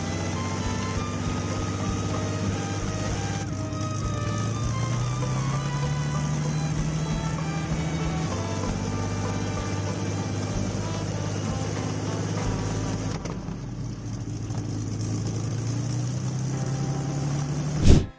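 A massive aviation engine idles with a steady, deep droning hum and layered tonal overtones. The pitch rises gently, drops and climbs again over a continuous, close rumble with no voices.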